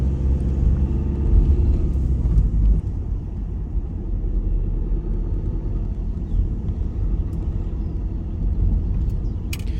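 A car creeps slowly along a narrow country lane on Guernsey, its engine and tyres giving a steady low rumble from inside the vehicle, with no voices.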